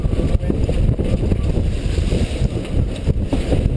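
Strong wind roars across the microphone aboard a sailboat carrying a lot of sail in rough, kicked-up conditions, a loud, continuous buffeting rush with water noise underneath.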